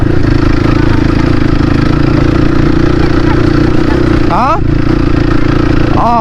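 A Crossfire RM 250 motorcycle runs with a loud, continuous, even engine drone close to the microphone, and a voice speaks over it.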